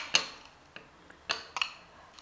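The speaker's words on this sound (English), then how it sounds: "Mix it well." Utensil stirring a chicken goulash mixture in a dish, a few light clinks and scrapes spaced irregularly, close and fairly quiet with no talk.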